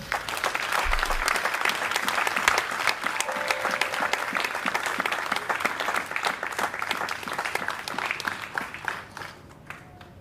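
Audience applause at an ordination ceremony, a dense, steady wash of clapping from a large crowd lasting about ten seconds before thinning out at the end.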